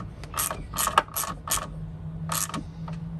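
A ratchet tightens tow mirror bolts on a 2001 Suburban, giving several quick bursts of close metallic clicking separated by short pauses.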